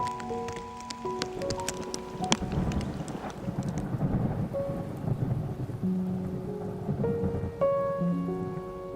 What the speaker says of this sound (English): Every storm front blowing off of the Great Lakes.